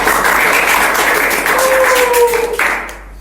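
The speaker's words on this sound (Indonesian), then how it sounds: "Tepuk tangan." An audience claps together in a podcast studio, a dense steady round of applause that holds for a few seconds and then tapers off, with no speech over it.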